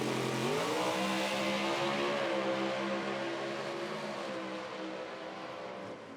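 A nitro drag racing car making its run at an IHRA Outlaw Nitro Series Pro Am event in Dunn, North Carolina, heard as a loud, sustained engine roar that climbs in pitch, then fades slightly as it shuts off.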